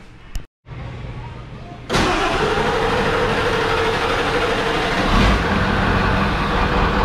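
After a short quiet moment, a pickup truck's 7.3 diesel engine rumbles to life and keeps running loudly and steadily, a rough, constant idle.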